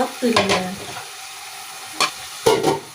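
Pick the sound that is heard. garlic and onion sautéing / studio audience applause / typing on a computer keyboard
garlic and onion sautéing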